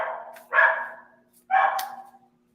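A next-door neighbor's dog gives two loud, high-pitched barks about a second apart, close and clear, each trailing off in a short whine over a faint hum.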